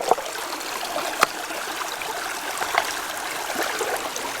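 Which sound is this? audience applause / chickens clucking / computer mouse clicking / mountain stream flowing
mountain stream flowing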